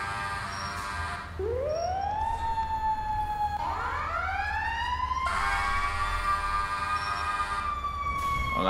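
A video game emergency vehicle siren wails, rising and sweeping repeatedly, loud and continuous, with a steady electronic tone and no talking.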